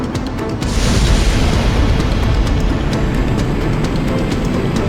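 A deep, heavy boom from a giant cannon in the video game Ace Combat X erupts and then rolls on as a sustained loud rumble filling the whole stretch.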